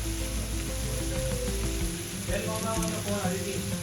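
Egg fried rice sizzling in a hot pan just after soy sauce goes in, a dense steady crackling hiss with faint stirring, close and continuous.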